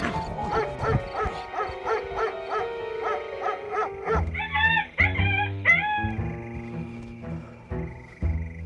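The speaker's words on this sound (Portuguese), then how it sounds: "Bicho tá velhinho, mal sai da casinha. Mas tá latindo" An old dog barks in repeated, evenly spaced woofs, fairly close and loud, later shifting to higher howl-like yelps, with no talk over it.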